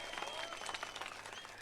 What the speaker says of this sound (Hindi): एक बार जोरदार तालियां बजा दीजिए इनके लिए